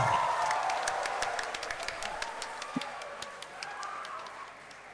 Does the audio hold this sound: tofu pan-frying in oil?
no